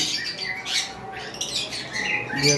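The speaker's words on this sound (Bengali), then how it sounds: "এই যে ল্যাটিনো ককাটেলের যে মেলগুলো, এই যে দেখেন এই যে ম্যাটিং পোল দিচ্ছে প্রচুর পরিমাণ" Male lutino cockatiels in a bird farm give a dense chorus of shrill, overlapping squawking mating calls, loud and continuous throughout.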